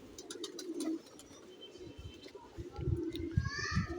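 Low, rolling coos from a Sialkoti black-mouthed pigeon, a large male, repeat in a steady rhythm close by, growing fuller toward the end, with faint higher bird chirps in the background.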